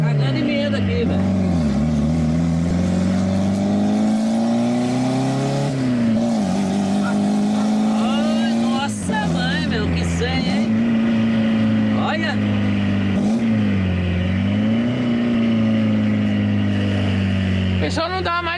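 A Honda Civic engine drones steadily while driving, its pitch rising and falling as it revs up and eases off for the whole stretch. Loud and close, from inside the car, with voices talking over it.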